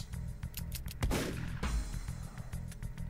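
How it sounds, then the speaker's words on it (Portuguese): Modded DOOM gunfire: a sharp burst around the middle followed by a second blast, over a steady background of low hum and clicks. "Vamos tentar dar outro tiro."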